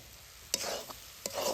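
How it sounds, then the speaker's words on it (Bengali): Chicken samosa filling frying with ground spice powder and chopped coriander, a soft low sizzle broken by a few scraping stirs of a spatula against the pan. "এবার মশলার গুঁড়া দেওয়ার পরেও কিন্তু একটুখানি কষে নিব"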